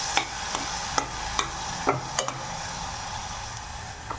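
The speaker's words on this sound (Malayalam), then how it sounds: "നമ്മൾ തക്കാളി മുറിച്ചത് ഇതുപോലെ അരച്ചെടുത്തിട്ടുണ്ട് അതുകൂടി ഇതിലേക്ക് ആഡ് ചെയ്യാം എന്നിട്ട് നന്നായിട്ട് ഇത് യോജിപ്പിച്ചെടുക്കാം" Ground tomato is stirred into soya chunk biryani masala in a pan. A spoon gives a series of sharp, irregular scrapes and clicks over a soft, steady sizzle, with no talk.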